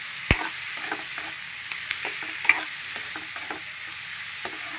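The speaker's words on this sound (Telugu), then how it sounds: "ఆనియన్స్ పచ్చిమిర్చి వేసుకొని బాగా ఫ్రై చేసుకోవాలి." Sliced onions and green chillies fry for a chicken curry, a steady sizzle in the pan with a spoon stirring and scraping in irregular knocks throughout, close up.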